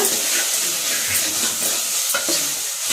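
Snake gourd frying in a pan for saaru as its water cooks off, a loud close steady sizzle and hiss with a few scraping stirs near the end, no talking.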